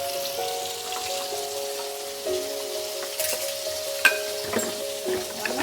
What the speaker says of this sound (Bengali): নুন আর হলুদ দিয়ে আমি আলুগুলোকে বেশ একটু লাল করে ভেজে নেব